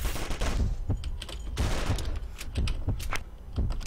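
Gunfire in the Zombie Grinder video game comes as rapid, repeated loud shot bursts in quick rhythmic volleys, dense and close throughout.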